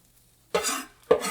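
Onions hitting a hot pan and sautéing, with two sharp bursts of sizzling and scraping after a quiet start, each fading over a fraction of a second.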